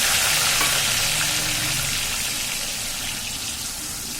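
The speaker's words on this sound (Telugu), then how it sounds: "ఇప్పుడు ఇది ఈ ఆయిల్లో వేసి వేపేసుకున్నాను" Loud, close sizzling of an onion and tomato paste frying in hot oil for chicken curry, a dense crackling hiss that eases slightly over a few seconds.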